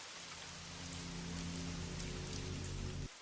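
Steady rain falling on a surface, a continuous dense patter holding at an even level for about three seconds under a low droning hum, with no voices.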